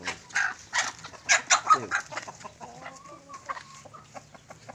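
Chickens cluck in a makeshift plywood shelter propped on wood, a cluster of close, fairly loud clucks and squawks early on that taper into softer, scattered calls, with a brief word spoken.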